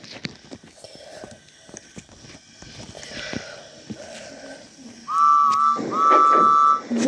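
George the steamroller's toy whistle from Thomas and Friends blows two loud, steady, high-pitched blasts close by, after several seconds of quiet clattering and handling noise.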